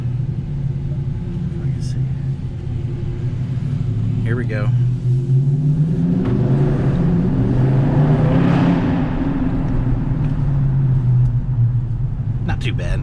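In a parking garage, the V8 engine and exhaust of a 2021 Dodge Charger Scat Pack Widebody set in track mode rumble at idle and swell into a couple of rising revs that echo heavily off concrete, while someone talks briefly.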